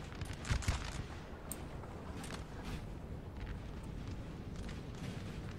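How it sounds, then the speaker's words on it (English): Napoleon Total War battle with artillery firing at point-blank range: a dull boom early on, then a steady roar of distant gunfire and wind-like battle ambience, fairly quiet throughout. "Their artillery's getting point blank range."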